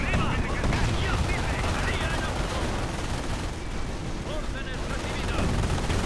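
Heavy continuous battlefield gunfire around an artillery battery in the WWII strategy game Company of Heroes: Tales of Valor, rapid machine-gun rattle and blasts layered into a dense, loud din with no letup.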